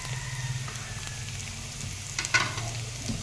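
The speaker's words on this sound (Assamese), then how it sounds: "পানীখিনি দি এনেদৰে অলপৰ কৰি লৰাই দিছোঁ" Chicken curry with added water is stirred in a pan, a soft simmering sizzle running under a few gentle scraping strokes and one brief clatter, close and moderately quiet.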